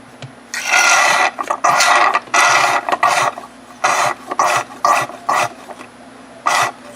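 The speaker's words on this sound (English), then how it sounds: "I have a small hand pump that I usually put in there, and you get an old bottle and you just kind of pump it out" A small hand pump draws old engine oil out of a BMW E46, loud rasping strokes in bursts of about half a second with short gaps between them, close to the mic and without talk.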